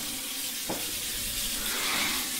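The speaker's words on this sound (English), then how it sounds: "I'm going to fill the bottom of the sink up with hot water." Hot water runs steadily into the bottom of a kitchen sink, a continuous close rushing splash that holds at an even level throughout with no talking.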